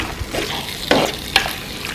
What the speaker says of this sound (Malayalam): ഈ ചേർത്ത് കൊടുത്ത കൊഞ്ചൊക്കെ ഒന്ന് നന്നായിട്ട് മിക്സ് ചെയ്ത് ഈ മസാലയൊക്കെ കറക്റ്റായിട്ട് പിടിക്കത്തക്ക രീതിയിൽ ഒന്ന് മിക്സ് ചെയ്തെടുക്കാം